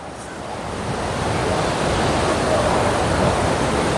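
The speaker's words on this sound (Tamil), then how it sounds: "வரலாறு காணாத தண்ணி இப்போ வந்து ஆள் பறித்து ஓடுது" Swollen Sarabanga river in floodwater after two days of heavy rain, rushing near Pachaliyur. A steady, loud, broadband roar holds without a break throughout, with no voices.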